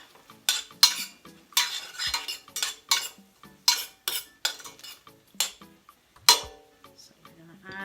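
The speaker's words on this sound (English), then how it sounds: "And then I'm going to stir it up." Close, clattering strokes of a utensil against a pan as tomato sauce is stirred into chicken breast for a creamy spinach parmesan dish, repeating in a steady rhythm of sharp scrapes and knocks over a faint sizzle.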